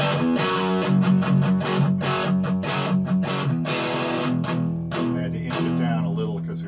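Heavily distorted electric guitar chords grinding through a Marshall JCM 800 amp, sustained and loud with a gritty, saturated edge.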